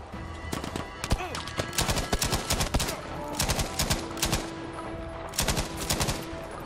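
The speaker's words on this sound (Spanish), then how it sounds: "La ametralladora." Machine gun in the World War II shooter Battlefield V fires in rapid bursts of sharp, close shots, with brief pauses between volleys and some game background noise throughout.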